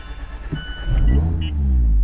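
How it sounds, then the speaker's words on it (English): The starter turns over a 2016-or-later ND Mazda MX-5 Miata engine with the throttle held wide open so it will not fire. A short click is followed by a steady, close, low mechanical cranking churn. "if you hold the gas down all the way and start it, it'll turn over without firing"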